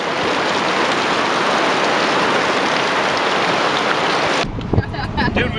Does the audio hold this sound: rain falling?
yes